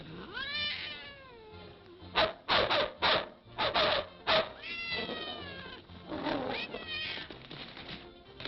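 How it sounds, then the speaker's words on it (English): Cat meowing in a drawn-out, wavering series of cries close by, broken by rough rubbing or rasping bursts in the middle, with low background noise. "I have some grub for your cat."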